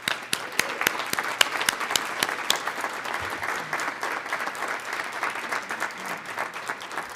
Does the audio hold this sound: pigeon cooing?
no